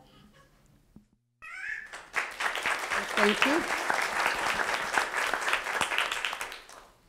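Applause breaks out for an attorney at a city proclamation meeting, building quickly after a short spoken thanks and holding as sustained clapping across the room.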